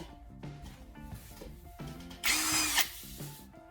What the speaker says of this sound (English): Insert the graphite rod into a drill chuck so it can spin while sanding.